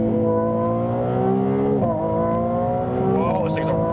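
A Ferrari 296 GTB engine revs steadily, its pitch climbing and dropping between gear changes, loud and close throughout.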